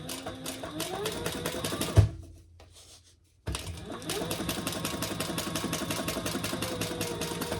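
A sewing machine stitches a seam on a crossbody bag with a fast, rhythmic mechanical chatter, stops for about a second and a half, then starts again and runs steadily, close and moderately loud.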